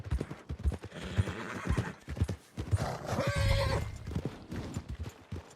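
Horse hooves clip-clop steadily in Red Dead Redemption 2, and a horse's whinny rises clearly near the middle, all fairly close with a busy game soundscape underneath.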